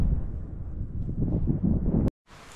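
Wind buffets the microphone outdoors on a high viewpoint above Bohinj, a steady low roaring rumble for about two seconds that then cuts off abruptly.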